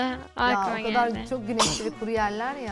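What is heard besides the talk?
sneeze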